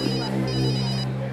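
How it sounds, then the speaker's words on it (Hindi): Phone ringtone ringing in a TV crime drama, a repeating electronic tone pattern heard up close over a low steady hum, with no one talking over it. "सर का फोन"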